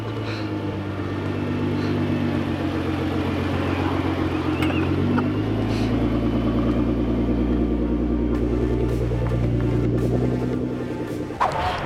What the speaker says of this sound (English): we're gonna see what Rick's reaction is to riding for the first time in a tuned R35 GTR